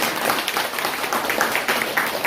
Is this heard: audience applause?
yes